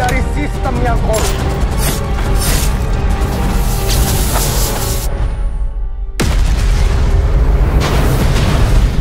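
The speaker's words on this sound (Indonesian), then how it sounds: "udah ada 1 bom yang meledak" Bomb blast from an Indonesian film teaser: a dense, loud rumbling boom that sustains, drops into a brief hush near the end, then another heavy burst erupts and rolls on, with dramatic score layered beneath.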